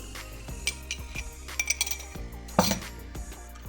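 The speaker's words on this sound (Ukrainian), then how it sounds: "Поки що це все разом змішую" A spoon clinks and scrapes against a bowl while glaze ingredients, including milk, are stirred together, with scattered light taps and one brighter clink.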